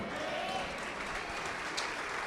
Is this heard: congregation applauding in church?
yes